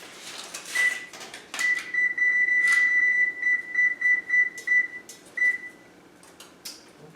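An oven's control panel beeps as someone sets it to 425 degrees for baking banana muffins, giving a series of short, clear electronic tones with one held note, fairly close in a quiet kitchen.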